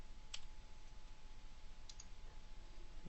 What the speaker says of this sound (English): So we'll hit Q on the keyboard.